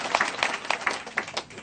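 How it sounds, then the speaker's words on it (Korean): Audience applause at a live motivational seminar talk, a short burst of scattered clapping from the crowd, fairly close and moderately loud, with a few irregular louder claps throughout. "박수 한번 주실래요?"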